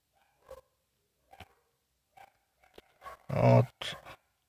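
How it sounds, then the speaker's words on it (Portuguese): A dog barks in short, irregular bursts, several sharp barks spaced apart, growing louder toward the end with one strong, close bark. "O cachorro começou a latir agora."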